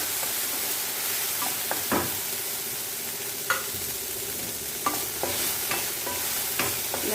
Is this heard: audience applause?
no